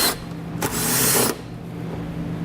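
A ratcheting 10mm socket works nuts off the back of a 2017 Chrysler 300 bumper fascia in two short bursts, the second longer, close and fairly loud with quiet gaps around them.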